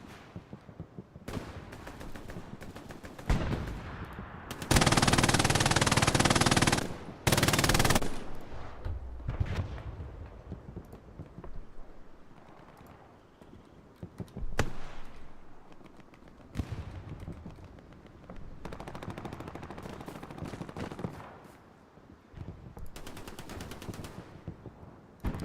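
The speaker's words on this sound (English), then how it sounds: "Gorlami with the MG42 on the fence post." MG42 machine gun fire from a fence-post position in Hell Let Loose at Utah Beach: a loud sustained burst of several seconds near the middle, with more scattered gunfire and battle noise before and after.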